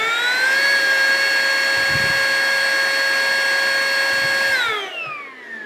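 A Mellif cordless blower duster, DeWalt version, runs on low at about 65,000 RPM with a loud, steady, high-pitched whine, then winds down as it is switched off near the end.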